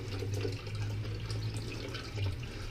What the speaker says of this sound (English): The water drains pretty rapidly comparatively to the older style bags.